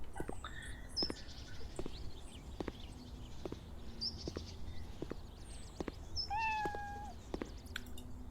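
A cat in the video game Cafe Owner Simulator meows repeatedly in short, fairly quiet calls spaced through the scene, over a low background hum.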